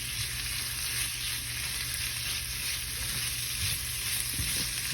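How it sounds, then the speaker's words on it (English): Chipotle peppers and their sauce are stirred into a hot pan while making shrimp and grits, giving a steady close sizzle and frying hiss with occasional soft stirring scrapes and no talk. "Now you're gonna go in with your chipotle peppers. I used about a tablespoon of the sauce and 1 pepper. We're gonna get this worked in also."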